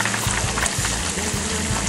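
Breaded shrimp deep-frying in a fryer at a beachfront cook, a loud continuous bubbling sizzle with dense crackle and no talk over it.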